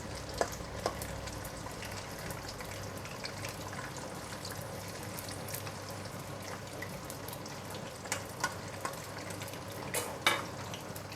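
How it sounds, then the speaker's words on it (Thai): Small pieces of food deep-frying in hot oil, a dense crackling bubble that runs steadily throughout, close and fairly quiet, with a few sharper pops and ticks toward the end. "เอาลงไปทอดในน้ำมันค่ะ"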